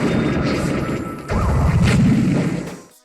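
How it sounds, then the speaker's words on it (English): Fire Rod blasts from The Legend of Zelda: A Link Between Worlds roar and crash loudly, a sustained fiery rush that pauses briefly and then surges again before fading out, with no one talking. "Nice Fire Rod."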